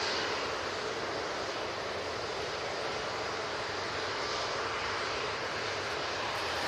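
A Qatar Airways airliner departing Manchester Airport makes a loud, steady, hissing jet roar that holds constant across the whole stretch, with no voices.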